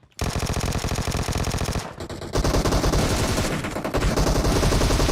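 Rapid automatic gunfire in the video game PUBG Mobile, two long loud continuous bursts split by a brief gap, with no talking.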